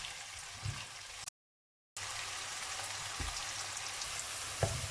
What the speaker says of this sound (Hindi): अब हम इसको ऑयल के अंदर भून लेते हैं।